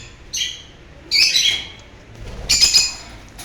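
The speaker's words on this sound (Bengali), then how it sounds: "এই যে আরেক জোড়া হোয়াইট ফেস ভায়োলেট অপালাইন" White face violet opaline aviary birds give three bright, shrill bursts of chirping, close and clear, separated by short quiet gaps.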